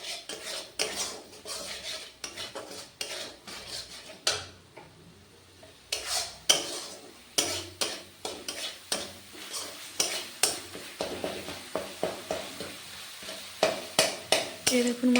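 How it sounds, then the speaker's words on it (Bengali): A metal spoon scrapes and clanks rhythmically against a pan while ground cumin and coriander masala is stir-fried in oil, soft sizzling beneath the repeated strokes, which grow steadier and quicker toward the end. "এবার মশলাটা ভালো করে কষে নেব।"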